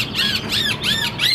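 A caged hwamei, the Chinese melodious laughingthrush, gives loud, close, repeated whistled calls, several swooping bright phrases in quick succession with short gaps between them, and no voices.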